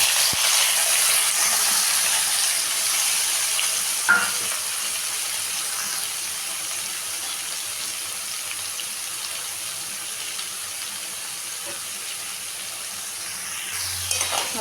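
Vegetables frying in oil with black cumin, fenugreek and a dried red chilli after fish bones were fried, giving a steady close hiss with a few faint clinks and no voice.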